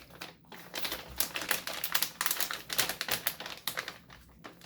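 A knife scrapes and taps at the plastic packaging of an EVGA X299 Dark motherboard in a rapid, irregular run of close, sharp clicks and scratches, with no voices.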